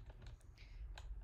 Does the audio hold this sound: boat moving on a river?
no